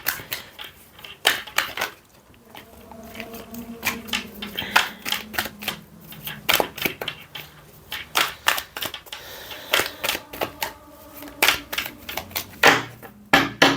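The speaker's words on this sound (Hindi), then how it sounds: "मैं सारे कार्ड्स ना ऑल एक साथ ही निकाल लेती हूँ" Tarot cards drawn and handled during a reading: sharp, irregular clicks and snaps of card stock, close and fairly loud, with brief pauses and a faint hum in the background.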